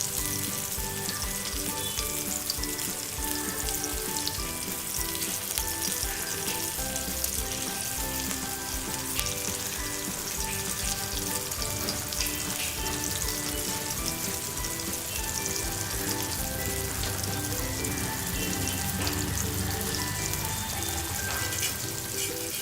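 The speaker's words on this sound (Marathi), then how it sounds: "आणि चांगली दोन्ही बाजूने खरपूस भाजून घेणार आहोत त्याला" Surmai (kingfish) pieces shallow frying in oil in a pan, a loud, dense, unbroken sizzle and crackle that stays close and steady from start to finish.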